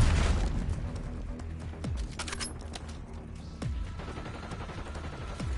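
Gunfire rattles through a Call of Duty Black Ops 6 multiplayer match on the Babylon map, with repeated sharp shots and short bursts, some near and some distant, over a constant background rumble.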